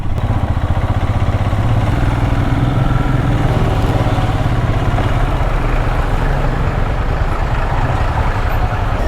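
Motorcycles are let through at a traffic stop on a mountain road near a landslide in Kinnaur. Their engines drone continuously and steadily from close by, with no talk.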